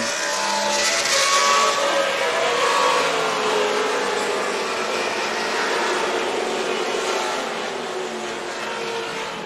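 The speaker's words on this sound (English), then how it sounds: "Fantastic sights and sounds from VIR as Ernie Francis Jr. dives into the horseshoe" Race cars at the VIR racetrack roar past, engines revving loudly and steadily across the whole stretch before easing slightly toward the end, with no talk over them.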